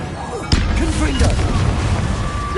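A Confringo blasting spell explodes in Hogwarts Legacy: one sudden, close, booming hit with a brief crackling tail, while a person talks over it.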